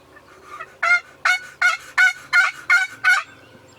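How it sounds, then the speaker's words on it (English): A wild turkey gobbler gobbles in a rapid run of about seven rattling bursts, clear and moderately close in open woods, with no talking over it. "Now we got another gobbler that's even closer answering."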